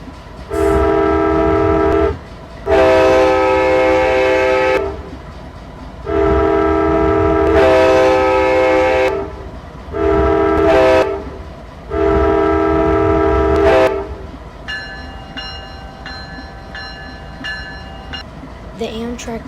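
Locomotive horn quilled in the Southline video game: a loud harmonic chord sounding in several long and short blasts with brief gaps, then a fainter higher-pitched tone and quieter rumble to finish.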